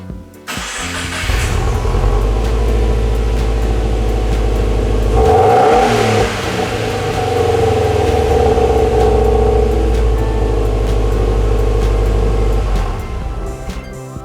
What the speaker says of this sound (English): you can just turn your car back on,